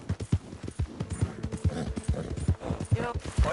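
Horse hooves clip-clop in a steady, rhythmic gallop within a video game, loud and close, with short voice exclamations mixed in.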